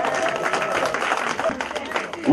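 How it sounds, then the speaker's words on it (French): A standing ovation at an association's investiture ceremony, with a crowd applauding the president in a loud, dense, sustained roar of clapping, voices mixed into the noise. "je demande une ovation et une standing ovation pour elle."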